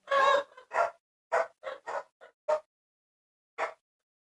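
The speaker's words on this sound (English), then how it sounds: "Uh-oh, the dogs are barking." Dogs bark in a quick run of sharp, close barks, then go quiet before one last bark after a short pause.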